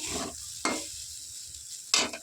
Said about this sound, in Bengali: গাজর আর আলুটা ভাজতে ভাজতেই এর মধ্যে আমি একটু আদা গ্রেট করে দিয়ে দিয়েছি।